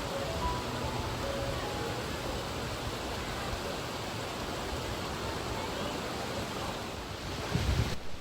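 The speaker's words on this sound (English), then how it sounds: "This is the beautiful scenery you see right there at the bottom of the waterfall." Water crashing at the bottom of a waterfall makes a constant, dense broadband roar, loud and unbroken, with a slight bump of wind buffeting near the end.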